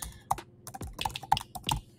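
Fingers tap quickly on a computer keyboard, a close, sparse run of light clicks with small irregular gaps and no talk over them.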